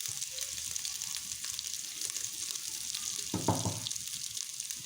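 Crushed pepper, cumin and garlic paste sauté in a pan for pepper-cumin rasam, giving a faint, even sizzle with a brief louder stir or clatter near the end.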